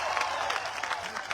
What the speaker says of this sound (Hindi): जोरदार तालियों से फारूक शाब्दी का इस्तकबाल करिएगा